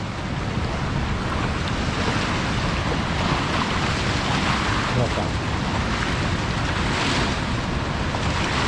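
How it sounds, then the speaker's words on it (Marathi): Fast-moving floodwater of the Nar river rushes below a dam, water pouring three to four feet deep over it, a steady loud roar of churning waves mixed with wind buffeting the microphone throughout. "समोर पहा लाटा किती वेगाने येतात"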